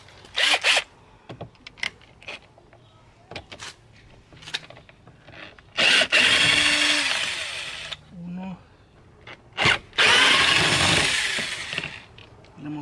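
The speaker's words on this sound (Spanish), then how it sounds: "si tienes con el taladro, vamos a sacarle todos los otros tornillos" A power drill whirs in two longer bursts removing screws from a Nissan Xterra speaker, between scattered clicks, taps and handling noises, with a short lower buzz in between.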